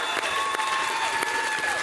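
A live audience claps and cheers for performers at a streamed Kingdom Hearts panel event, a dense steady wash of applause with a few whoops, close and loud throughout.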